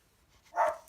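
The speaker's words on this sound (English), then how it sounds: "Please excuse the dogs, they've heard my voice." A single short dog bark sounds from a little distance indoors, brief and moderately loud against a quiet background.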